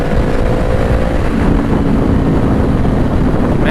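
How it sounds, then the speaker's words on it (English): A 2020 Honda CBR500R motorcycle on a ride gives a loud, steady engine drone mixed with heavy wind rush over the microphone, constant throughout with no talk. "man, I love riding this bike."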